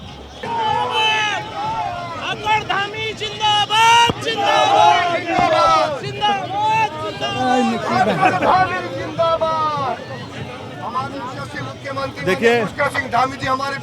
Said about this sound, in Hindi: यहाँ पर बहुत से भारतीय जनता पार्टी कार्यकर्ता, पूरा हुजूम, पूरी भीड़ और बहुत ही अच्छी संख्या में भीड़